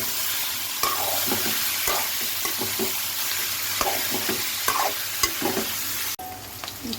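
Onions fry in a pot with turmeric, cloves, cardamom and cinnamon, a steady sizzle broken by repeated scraping stirs of a spoon, ending with a sudden cut to quieter sound; no talking.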